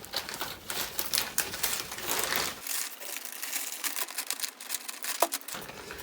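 Crinkly plastic rustling close by as amaryllis bulbs are put into a ventilated plastic bag, bursts of crisp crackling that continue in an uneven rhythm, with no voices.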